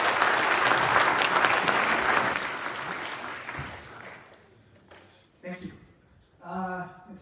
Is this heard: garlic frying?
no